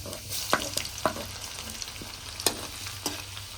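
Half a spoon of cumin seeds sputters in hot oil for paneer bhurji, a soft steady sizzle with a few crisp pops and ladle scrapes, close up and fairly quiet, no voices.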